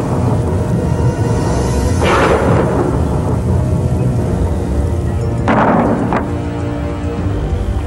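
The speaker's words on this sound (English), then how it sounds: "this is some storm we're having" A thunderstorm with steady heavy rain and two loud rolling thunder cracks, one near the two-second mark and another around five and a half seconds, both close and booming over a constant wash of rainfall.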